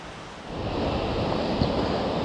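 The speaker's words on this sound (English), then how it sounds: "More sound of waterfall." Steady, full-bodied rush of a waterfall near Kerikeri, New Zealand, a continuous roar that swells slightly after the first half second and holds level, close and loud.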